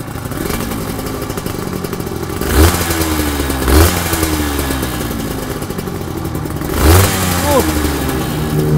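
Aprilia RS 250, a 250 cc two-stroke twin-cylinder motorcycle, kick-started on the first kick and then idling with a steady buzzing drone, broken by three sharp throttle blips that rise and fall quickly.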